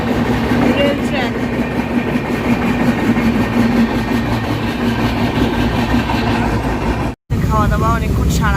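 A train runs along a rail track beside a flyover, its loud, continuous rumble and rhythmic clatter sounding close, with a brief dropout near the end.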